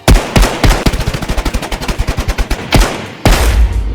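Rapid automatic bursts of .45 ACP FMJ rounds fired at blue body armor in the shooter game Exfil Zone, a loud, close, evenly spaced string of shots with a couple of heavier single reports at the end, no talking.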